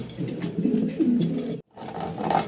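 Two male Mundian fancy pigeons coo in low, throaty, rolling phrases close by, breaking off briefly before the cooing resumes.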